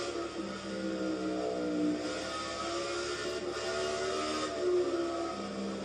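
A race car engine in NASCAR 14 screams at high revs, its tone rising and falling through gear changes and throttle lifts as the car circles the track, loud and continuous with no talking.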